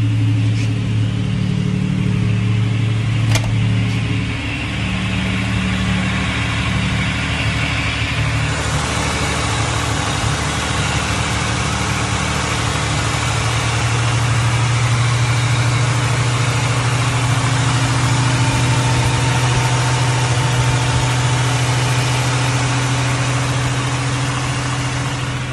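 A Buick Grand National idles with a newly installed exhaust, a steady, loud low rumble that holds throughout, with a slight shift in tone partway through and no talking.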